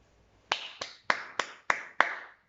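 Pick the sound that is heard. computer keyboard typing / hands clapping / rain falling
hands clapping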